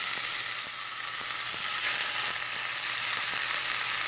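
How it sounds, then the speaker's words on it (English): Corned beef browning in a hot pan, a dense, even hiss of sizzling fat that holds steady throughout with faint ticks underneath, close and continuous, no voices. "we're going to take our corned beef, and we're also going to put that in the pan. We're just going to let that grill."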